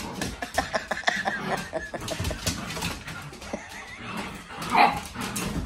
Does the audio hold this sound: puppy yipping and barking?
yes